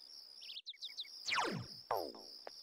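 A grasshopper chirps in the video game Persona 4 Golden, several short high chirps in quick succession, followed by sweeping game sound effects, with a steady high tone running underneath.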